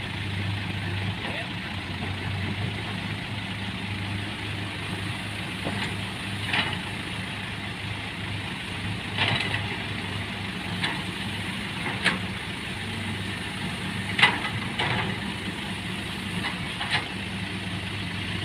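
A farm tractor engine runs steadily at a low idle-like drone, with occasional knocks and clanks over the continuous hum, heard at moderate distance outdoors after rain.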